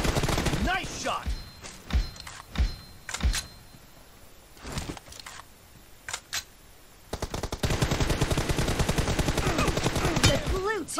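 Gunfire in a video game team deathmatch: sharp bursts and single shots crack out in uneven clusters, then a dense sustained automatic volley rattles loudly through the final seconds.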